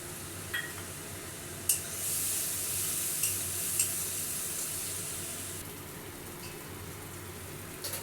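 Spice paste with turmeric, sugar and green chilies frying in a pan, a soft steady sizzle close by with a few light stirring knocks of a spoon against the pan.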